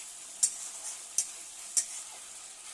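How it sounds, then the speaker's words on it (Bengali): Ground ginger-garlic paste with dry chillies frying in a pan, a soft steady sizzle punctuated by three or four sharp clicks of a spatula against the pan, close and fairly quiet. "ভালো করে আদা রসুনের মশলাটা কষিয়ে নিতে হবে।"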